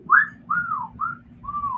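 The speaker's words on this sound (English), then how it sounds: "That's a pretty good whistle solo." A whistled solo from a song, four clear melodic notes in a row, some sliding down in pitch, with a soft accompaniment underneath.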